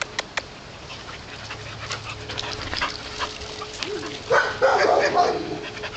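A boxer dog pants softly and steadily in the background during a training session with a pager collar, with a few brief louder vocal sounds near the end.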